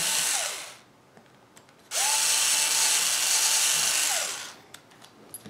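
A power drill boring a hole into the chassis of a TLR 22 2.0 RC car, two close, loud bursts of whining motor and bit grinding, each lasting a couple of seconds with a quiet gap between.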